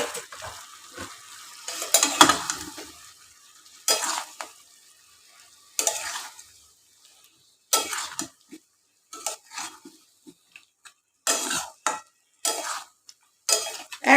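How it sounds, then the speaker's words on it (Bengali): Chunks of meat and potato being stir-fried in a pan for a Bengali chicken curry, heard as intermittent scraping and clinking of a spatula against metal in short bursts, with a faint sizzle between strokes and no talking. "এবারে এই অবস্থাতেই মাংস আর আলুটা দিয়ে কষাতে শুরু করলাম"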